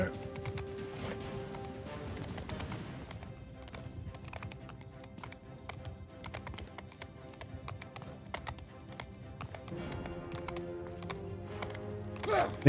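Horses' hooves clatter in a rapid galloping rhythm amid a chaotic video game battle in the Old Realms mod, with clashing noise and occasional whinnies layered throughout.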